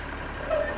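Tractor engine running in the farming game Landwirtschafts Simulator 2013, a low steady idling drone with a brief tonal whine near the end.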